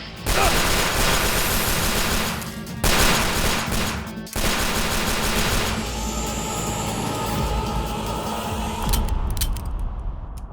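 Rapid cartoon gunfire rattles loudly in sustained bursts at a shape-shifting snake woman, with dense repeated shots through most of the stretch before thinning toward the end.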